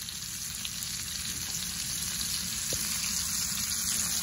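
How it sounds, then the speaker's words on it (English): Portobello mushrooms browning in a skillet give a steady, close sizzle and frying hiss throughout, with no talking over it. "Skillet, we're going with our portobello mushrooms. Gonna brown them off."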